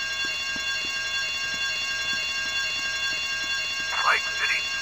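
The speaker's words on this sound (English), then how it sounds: "I told you not to touch that alarm!" An alarm rings steadily in GTA Vice City during a club shootout mission, a continuous high electronic tone running through the whole span, with faint low thuds beneath and a brief rising chirp near the end.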